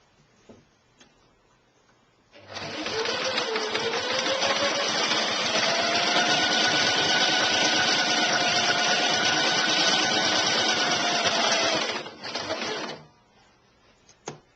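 A sewing machine stitches a maxi dress in one long steady run, loud and close, starting and stopping cleanly with quiet on either side.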